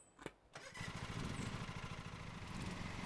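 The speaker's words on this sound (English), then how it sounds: "Right, start the engine." A lawn mower engine in Lawn Mowing Simulator cranks briefly, then catches and settles into a steady, close, rumbling chug that carries on with no talk over it.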